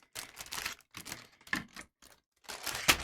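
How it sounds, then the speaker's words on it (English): Plastic packaging crinkling and rustling on a desk where Gunpla model kits are being built, several short bursts of crackle with brief pauses, close and fairly quiet. "I know, it's crinkling like a treat bag."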